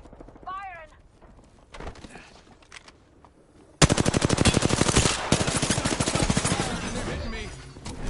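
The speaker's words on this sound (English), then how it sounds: "They're shooting at me!" Video game enemies open fire in a loud, rapid automatic burst that starts abruptly and keeps hammering for several seconds, with a voice talking over the quieter game sounds before it.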